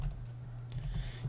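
Rapid, light clicking of keys typed on a computer keyboard, a short run of soft taps over a low steady hum.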